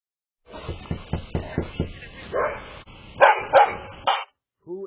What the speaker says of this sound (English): There was a black lab out in front of your house.